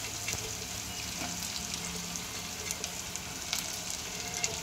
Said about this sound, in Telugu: ఇప్పుడు మన బోడ కాకరకాయ ముక్కలు ఇందులో వేసుకోవాలి